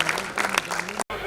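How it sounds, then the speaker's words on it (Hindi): Audience applause for a comedian at a Hindi comedy show, a dense burst of clapping close and fairly loud, cut by a brief silence before a voice begins. "जोरदार तालियां"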